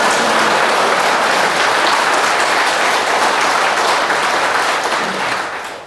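Loud, dense applause from a lecture audience fills the hall steadily for several seconds, then fades at the end.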